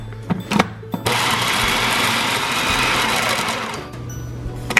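An electric mixer whirs steadily for about three seconds, blending Oreo cookie crumbs with butter and sugar for a no-bake Nutella cheesecake crust, starting abruptly after a few clunks and stopping near the end.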